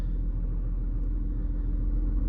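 A steady, low rumbling drone of an R32 car cruising along, with a constant mechanical hum from the transmission and no voices.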